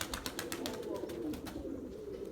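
Pigeons coo softly at mid distance, a low, wavering murmur under a rapid series of light flapping or clattering pulses that fade out partway through.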